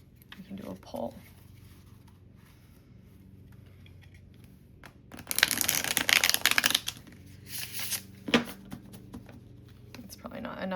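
Cardstock playing cards are shuffled close by: soft handling at first, then dense bursts of fluttering card riffles and pulls with a few sharp snaps, while a voice speaks quietly throughout.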